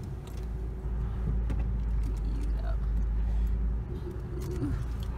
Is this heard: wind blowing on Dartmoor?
no